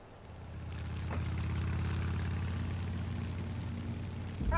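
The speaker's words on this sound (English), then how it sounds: "You get a motorcycle" A motorcycle engine idles in Resident Evil 2, a steady low rumble that holds at a constant level for several seconds, with a brief louder burst at the very end.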